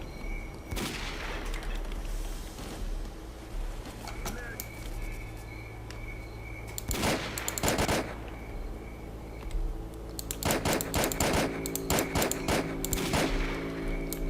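SVD sniper rifle fire in the video game Stalker, a few sharp shots with bursts of clustered gunfire around the middle and end, heard over a steady background hum and occasional speech.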